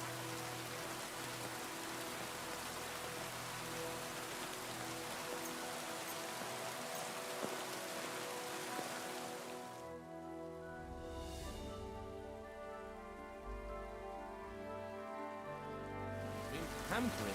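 Steady rain in the video game Kingdom Come Deliverance 2 patters on a surface throughout, a soft continuous hiss with a faint tonal hum underneath, no voices.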